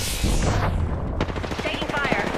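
Gunfire in the video game Horizon, dense rapid bursts of loud shots with booming impacts, close and continuous, with voices talking underneath.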